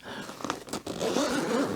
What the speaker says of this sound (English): But it zips open.